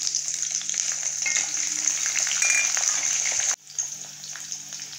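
Onions sizzle in hot oil in a pan alongside curry leaves and slit green chillies for rava biryani, a steady close frying hiss with occasional stirring that briefly cuts out near the end and then resumes more quietly.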